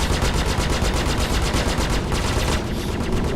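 Ship guns in the Star Citizen space game fire in a sustained, rapid automatic burst, loud and continuous with slight shifts in tone near the end, and no voices over it.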